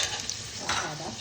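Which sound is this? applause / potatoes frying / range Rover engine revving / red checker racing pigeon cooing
potatoes frying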